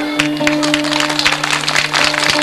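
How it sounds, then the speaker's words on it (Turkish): Audience at a 1990s Turkish wedding clapping steadily, a dense wash of applause with a sustained tonal hum underneath, loud and continuous. "Alkışlarınız sağ olsun."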